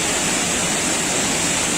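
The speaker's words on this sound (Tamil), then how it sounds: "இங்கே அமைந்திருக்கக்கூடிய இயற்கை சூழலும் சோபிதம் நிறைந்த அருமையானது ஒரு அருவியை உங்களுக்கு அறிமுகம் செய்கிறேன்" A waterfall in a natural setting at Pallikoottam in Kanyakumari district roars as a loud, steady, close rush of falling water, with no voices over it.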